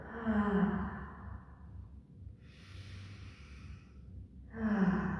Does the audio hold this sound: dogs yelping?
no